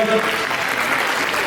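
Festival audience applauds loudly and steadily to open the festival, a dense wash of clapping that holds its level for the whole short stretch.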